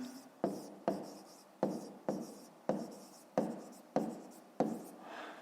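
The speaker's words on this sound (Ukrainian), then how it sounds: "Ну, а зараз записуємо відповідь, пишемо відповідь" A pen writes a math answer by hand with about eight evenly spaced scratchy strokes, each one sharp at the start and trailing off, close and quiet, with no talking.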